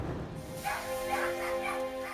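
Adult Staffordshire Bull Terrier female and her puppies, kept cramped in a rabbit hutch, give short yips and whimpers over a steady background hum.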